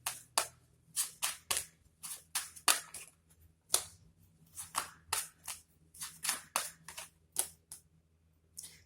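Tarot cards are drawn and handled close by in a quick run of sharp, crisp snaps and flicks, about a dozen and a half in uneven rhythm, with no talking.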